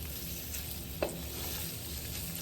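Shrimp frying in a pan for pad thai, a steady soft sizzle with one brief clink or stir at about one second, no voices.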